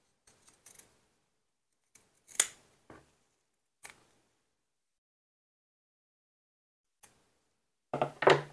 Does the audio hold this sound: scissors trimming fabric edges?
yes